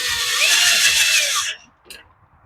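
A power drill drives a threaded screw into metal while repairing the recoil starter of a Craftsman blower, giving a steady high whine for about a second and a half before it cuts off, followed by a brief faint click.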